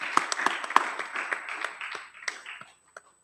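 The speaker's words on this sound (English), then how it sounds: "Yes, go ahead, applaud." An audience at a Sunday morning Hindu satsang gives a short burst of applause, scattered clapping that thins out and ends after a few seconds.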